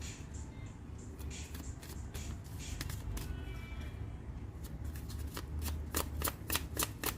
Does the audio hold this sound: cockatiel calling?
no